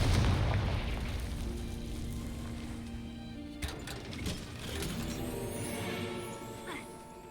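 Confringo spell explosions in Hogwarts Legacy: a heavy booming blast opens, rumbling and fading, then sharper crashing bursts follow a few seconds later, all loud and close with no talking.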